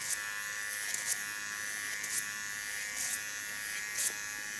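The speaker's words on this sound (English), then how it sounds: "This is the smallest Keone clipper" The smallest Keone hair clipper hums in a steady high buzz, broken by brief, slightly louder passes about once a second, with no talking.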